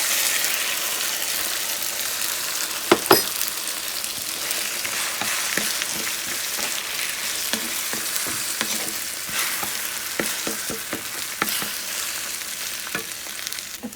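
Scrambled eggs with garden green pepper and greens fry loudly in a pan, a continuous dense sizzle with intermittent scraping and stirring knocks, close and with no talk.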